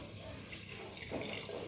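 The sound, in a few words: water poured into a cooking pot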